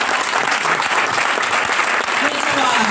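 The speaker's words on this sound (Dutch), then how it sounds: "Ik wil een applaus voor die vrouwen." Audience applause for women at a political gathering, a loud, dense and steady roar of clapping from a crowd, continuous throughout, with voices mixed in.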